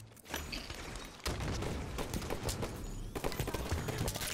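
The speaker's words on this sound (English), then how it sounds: "Taking sniper fire." Sniper rifle shots and heavy gunfire in a video game firefight, with dense, loud cracking bursts running continuously and a sharp surge partway through.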